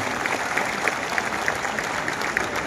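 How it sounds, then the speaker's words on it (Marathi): A crowd at a sculptors' convention in Maharashtra claps steadily to welcome a cabinet minister, with dense, continuous applause and scattered sharper claps throughout and no talking. "जोरदार टाळ्या वाजवून त्यांचं या ठिकाणी स्वागत करूया."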